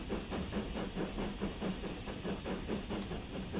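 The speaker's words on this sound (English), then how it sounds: "So yeah, pushing this train up the hill." A steam locomotive in Train Sim World 3 on the Peak Forest Railway route labours up a hill, its rhythmic chuffs of exhaust beating steadily over a constant hiss and rumble, loud and close.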